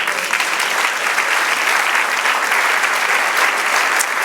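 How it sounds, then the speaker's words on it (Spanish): A church congregation applauding during a sermon: a dense, continuous wash of many hands clapping at steady loudness, with no talk over it. "Dele aplauso al Señor."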